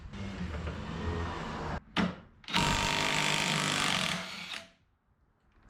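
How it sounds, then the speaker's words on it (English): A half-inch impact wrench removes a bolt on an abandoned 1958 Apache truck, giving two loud, close buzzing bursts separated by a brief pause before it falls quiet. "get your 1/2 inch impact and see if it wants to play"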